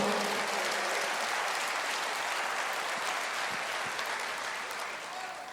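A church congregation claps together in sustained, dense applause that fills the room evenly, then slowly tapers off toward the end.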